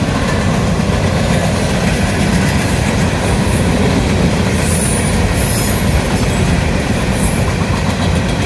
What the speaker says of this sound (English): Here comes Amtrak.